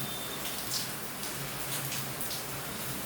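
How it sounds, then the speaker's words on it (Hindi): Heavy rain pours steadily outdoors near a light, a dense continuous hiss with wind gusting through it, no voices present. "वो देखो लाइट के पास में बहुत बारिश हो रही है, हवा भी चल रही है"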